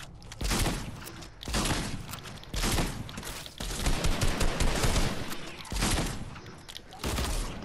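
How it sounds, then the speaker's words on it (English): Rapid-fire SMG bursts from the Fortnite video game rattle loudly in repeated dense volleys separated by brief gaps, dominating the mix. "There's a rapid fire SMG in here for you."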